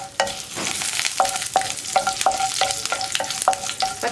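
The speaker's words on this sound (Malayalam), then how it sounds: "ഇതെല്ലാം ചേർത്ത് ഒന്ന് ഇളക്കി കൊടുക്കുക." Dried red chillies and curry leaves fry in hot oil with a close, steady sizzle while a spoon scrapes and clinks against the pan in repeated short strokes.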